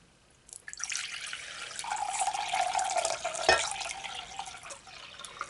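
Distilled water poured into a container to mix lye water for soap making, a splashing, trickling stream that starts after a brief quiet, builds and rises in pitch as the vessel fills, with a clink partway through.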